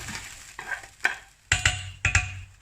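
Meat goes into a hot pot for chili and sizzles in bursts, with several loud clattering stirs and scrapes close by.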